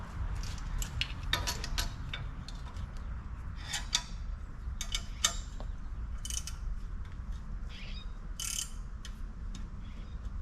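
A ratchet wrench tightening a bolt on a minitruck, with quiet, scattered clicking bursts of the pawl over a low background hum, fairly faint and with no talking.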